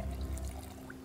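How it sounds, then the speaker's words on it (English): Water pours into a watering can in the Project Zomboid survival game, a soft, steady low splash that fades partway through, heard alone and fairly faint. "Fill the watering can"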